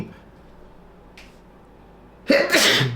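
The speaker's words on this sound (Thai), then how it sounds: "โทษนะครับ จาม" A man lets out one loud, sudden sneeze near the end, close and bursting after a quiet stretch with a faint earlier sniff.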